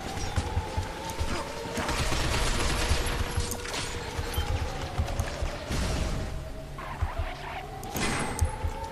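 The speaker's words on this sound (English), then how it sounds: "Stop shooting me." Enemy gunfire in the shooter game Binary Domain keeps coming as a busy volley of shots and impacts. It runs continuously over a low, rumbling game soundscape, with no clear speech.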